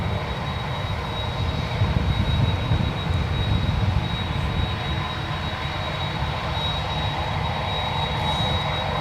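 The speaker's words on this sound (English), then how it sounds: "It's United Airlines Flight 2336 heading to Seattle in that A319" A United Airlines Airbus A319 jet taxiing at San Francisco International Airport, a steady low engine rumble and whine held at constant level throughout, moderately near with no talk.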